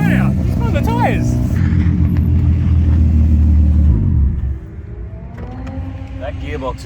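A loud, rough engine of a Hyundai Getz doing a burnout drones with a heavy low rumble, then cuts off abruptly near the end; people talk over it briefly at the start and end.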